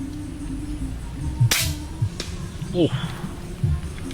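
A single sharp, loud crack from a Humer X air rifle fitted with a 4.5mm Alfa barrel, fired outdoors at a target about 102 meters away. A voice talks before and after the shot.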